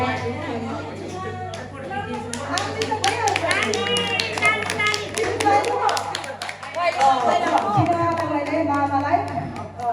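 Hands clap in applause at a family get-together with relatives, mixed with lively chatter and children's voices, the claps dense and overlapping through most of the stretch under ongoing talk.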